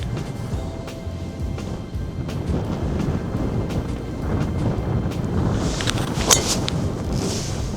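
Strong wind sweeps across the Southerness golf links, a steady, loud roar of gusts buffeting the microphone throughout, with no voices.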